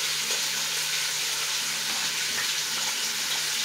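Red snapper fish browns in a hot pan, its oil frying with a continuous, even sizzle and faint crackle that stays steady throughout, with no talking.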